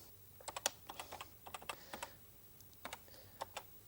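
Keys on a BBC Micro computer keyboard are tapped in quick irregular bursts of sharp clicks, close and quiet, with short pauses between runs and no voices.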